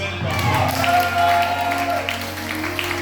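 Congregation at a church worship service applauding and cheering in acclaim of Jesus, a steady loud wash of clapping with a preacher's voice speaking over it.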